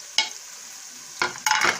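Onion with ginger-garlic paste frying in a pan for an egg and potato curry, steady close sizzle broken by a few sharp bursts of stirring, no voices.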